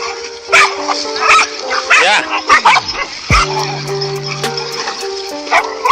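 Dogs bark, yip and whimper in a chaotic scuffle with a cobra, sharp close barks overlapping through the struggle with occasional whines rising above the noise.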